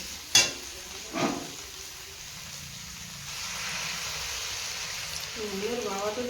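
Sautéed vegetables sizzle in a pan as a little water is added. Two sharp clinks open a soft, steady frying hiss that grows slightly louder, and a brief voice comes in near the end.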